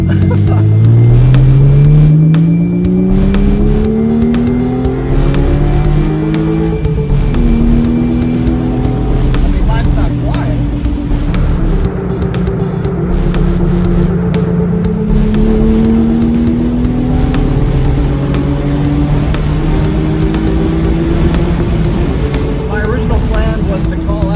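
A Porsche 996 fitted with loud aftermarket delete pipes accelerates hard, its exhaust rising in pitch through several gears, loud and close throughout.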